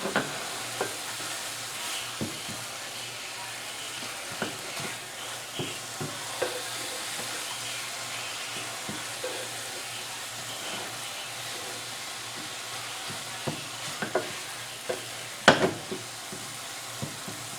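Apples cooking with sugar in a pan over lowered heat, caramelizing with cinnamon, give a steady soft sizzle and hiss with occasional stirring scrapes, a louder clatter near the end; no talking.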